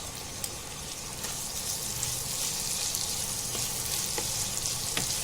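Chopped onions fry with salt in a pan, a steady close sizzle with occasional crackles and pops, no voices.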